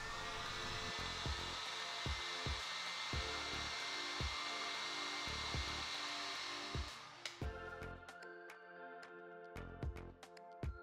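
Heat gun or hot-air tool blowing steadily to soften glue holding a cable inside Amazon Echo Frames smart glasses during a teardown, a continuous close whoosh with repeated small clicks, cutting off midway to leave sparse taps.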